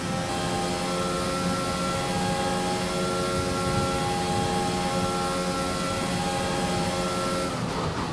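A Formula 1 car's engine holds a steady high-revving drone down a straight in the F1 2021 racing game, loud and continuous, easing off briefly at the very end.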